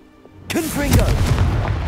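A Confringo fire spell blast in Hogwarts Legacy erupts with a sudden loud boom after a quiet start, followed by a rumbling fiery tail and swooping magical tones.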